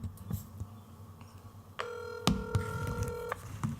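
A telephone being dialed for a call: a run of steady, distinct touch-tone beeps, moderately loud and close, played alone with faint background rustle and a couple of sharp clicks.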